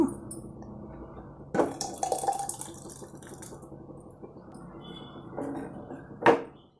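Thick cooked moong dal pours into a pot of payasam with wet splashing and dripping, a louder slosh near the start and another splash near the end.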